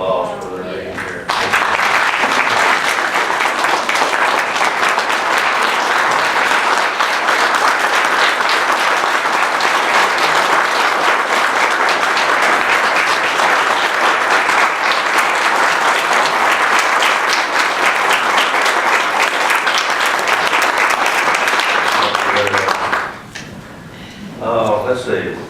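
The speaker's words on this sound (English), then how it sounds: "We need to give all of our veterans a round of applause for their being here." An audience at an annual meeting applauds the veterans present, a long, steady wash of clapping from a sizable crowd lasting over twenty seconds before dying away, with a few voices near the end.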